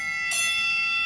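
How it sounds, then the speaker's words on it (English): A bell is struck once, giving a bright ringing tone that sustains and slowly decays, heard close and alone with no voices. "ring the bell a couple times"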